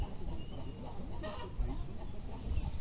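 A farmyard hen on a rural smallholding clucks softly in short, low bursts among faint background noise, close but not loud, with no talking.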